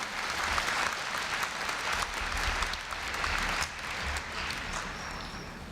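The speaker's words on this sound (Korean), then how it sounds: "다시 한번 큰 박수 부탁드립니다." Sustained applause from a big crowd at a university freshman entrance ceremony, steady and loud throughout with scattered individual claps standing out.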